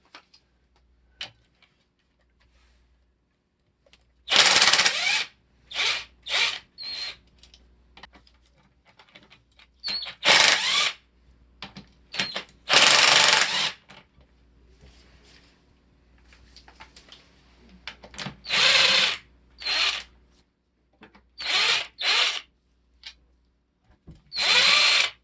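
A power tool whines in repeated short loud bursts as bolts and set screws come out of a 2000-2006 Honda Insight 5-speed manual transmission, with quieter ticks and clicks of handling between bursts.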